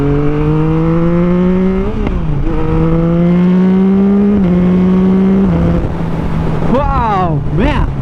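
A Yamaha MT-09 SP motorcycle with a flashed ECU accelerates hard, its engine note climbing steadily through the gears with brief dips at each shift, loud and close throughout, ending in sharp revving rises.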